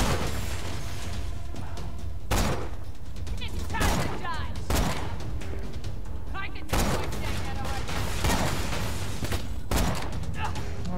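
Gunfire in the shooter Borderlands 2 comes as sharp, widely spaced shots and bursts, each a loud crack over constant game noise, with a voice talking over the action.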